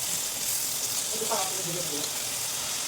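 Onion and tomato sizzle and fry in hot oil while being stirred in a pan, a steady close hiss with a few soft scraping stir sounds and a voice speaking over it.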